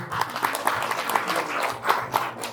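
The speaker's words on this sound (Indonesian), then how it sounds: "Tepuk tangan buat Kuasen." Village audience applauding during a village visit event in Kuwasen, Indonesia, with steady clapping from a gathered crowd and a few louder claps standing out, fairly close.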